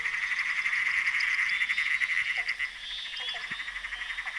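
A frog croaks at night, its repeated calls joined by others over a dense, continuous chorus of high insect-like trilling.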